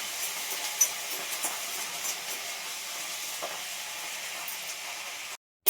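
Curry leaves frying in hot oil, a steady soft hiss and sizzle with faint crackles throughout, fairly quiet, no voices, ending in abrupt silence.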